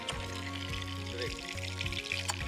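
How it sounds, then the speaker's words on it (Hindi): Fish deep-frying in hot oil, a steady dense sizzle and bubbling that runs continuously, with a low repeating hum underneath. "फ़िश हमारी हो रही है फ्राई।"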